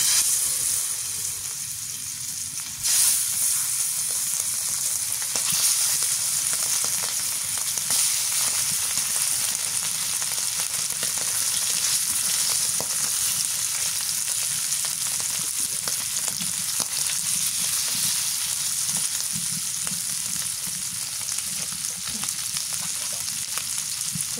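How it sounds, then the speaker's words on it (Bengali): Fish frying in hot oil in a home kitchen, cooked with brinjal, gives a steady, loud, dense sizzle and crackle that runs on without a break and shifts only a little as the pieces settle. "তেলটা গরম হয়ে গেছে মাছটা দিয়ে নেই"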